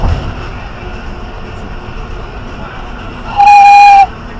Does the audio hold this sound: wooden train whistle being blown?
yes